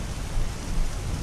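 Steady heavy rain with a low rolling rumble of thunder underneath, a dense continuous wash of noise with no talk.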